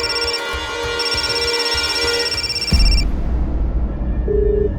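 A phone rings with a repeating electronic tone for about three seconds, then it cuts off into a low rumbling noise.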